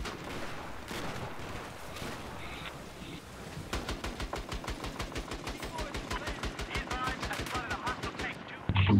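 Battlefield 4 gameplay with distant gunfire early, then a long rapid burst of automatic fire ending in a loud close shot, and a sniper rifle round among the shots.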